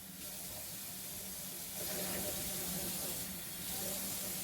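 Water running from a kitchen tap into a measuring cup while 2.5 cups are measured out for boxed jambalaya: a steady hissing stream, close and continuous, swelling slightly in places.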